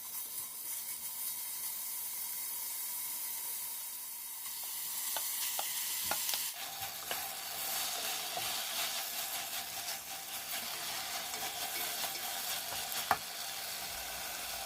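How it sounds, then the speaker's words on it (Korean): Seasoned beef and seaweed stir-fried in sesame oil in a pot, a steady hiss of sizzling that grows louder partway through, with occasional spoon scrapes and one sharp knock. "양념한 소고기를 넣고 피키가 없어질 때까지 볶아주다가 양념해 놓은 미역을 넣고 충분히 볶아주면 되고요."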